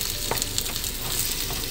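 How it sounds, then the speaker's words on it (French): Ground meat filling with tomato sauce being stirred in a pan, with a steady close sizzle and soft scraping of the spoon, no voices. "On mélange bien."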